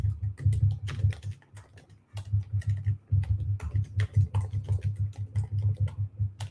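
Fast, steady typing on a computer keyboard, with dense clattering keystrokes over a low hum and short pauses, close and continuous, no talk.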